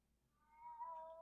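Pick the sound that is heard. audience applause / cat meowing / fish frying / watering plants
cat meowing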